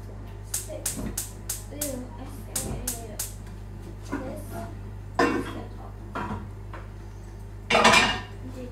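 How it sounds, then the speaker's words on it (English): Kitchen clatter of dishes, cutlery and a pot being handled and set on a stove, a series of sharp knocks and clinks with a louder metallic scrape near the end, with a voice talking between them. "Okay, putting this on the stove."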